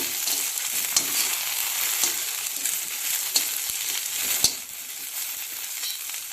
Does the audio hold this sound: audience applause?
no